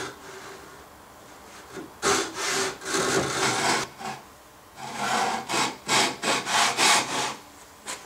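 A hand saw cuts a wooden joint for a Roubo bookstand in short bursts of rasping strokes, close up and moderately loud. The strokes start and stop with pauses between the runs, and no voices are heard.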